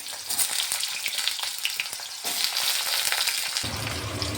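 Potato pieces fry in oil tempered with cumin and green chilies, crackling in a busy, close sizzle broken by sharp pops and stirring scrapes; a low rumble joins toward the end, with no speech.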